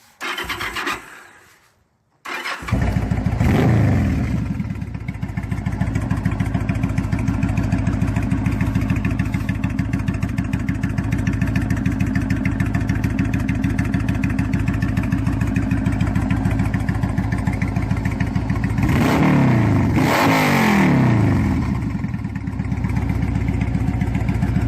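Motorcycle engine cranked and fired up, catching into a steady close idle with a throbbing pulse, then revved twice near the end with rising and falling swells before settling back to idle.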